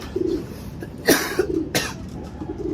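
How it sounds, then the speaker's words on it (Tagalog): Two short, raspy coughs close by in a pigeon loft, spaced about half a second apart, with soft cooing bird sounds in the background. "Ubo lang yan"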